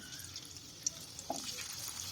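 Cabbage pakoras frying in a kadai, a steady soft sizzle of hot oil with a couple of brief clinks from a utensil, heard close with no talking.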